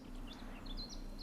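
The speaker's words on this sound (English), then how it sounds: "The birds singing, the bees buzzing." Birds sing faintly in The Witcher 3: a few thin, high chirps drift over a low, steady outdoor game ambience, distant and soft.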